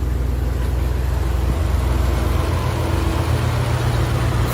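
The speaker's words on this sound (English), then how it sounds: "we revved it without the cold air on it." Ford crate engine with a Whipple 3.8 supercharger and Motec control, run without the cold air intake on, only the throttle body: a constant, heavy low rumble at steady speed with no clear revs.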